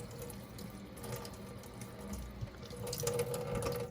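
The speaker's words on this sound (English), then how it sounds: "rinse out this first piece" Raw mohair being rinsed under a running tap in a sink, a steady close splash and trickle of water that swells slightly louder toward the end, with no voices.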